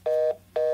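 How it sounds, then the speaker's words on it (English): Two steady dual-tone phone beeps, each about a quarter second long, sound clearly and alone with a short gap between them, like keypad dialing or notification tones. "phone line going crazy right now, man."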